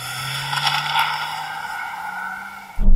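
A diesel Volkswagen Tiguan launches hard in its sporty setting using launch control, engine tone rising steadily with tire squeal, loud and close, ending in a sudden thump of wind or road noise.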